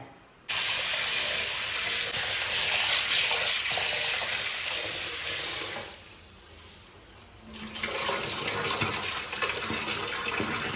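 Water runs steadily from a tap with a splashing rush, briefly dropping lower as cowpeas are washed under the stream, then resuming at full force.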